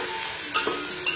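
Vegetables sizzle in a pan with an even, fairly faint hiss, broken by a couple of brief scraping stirs.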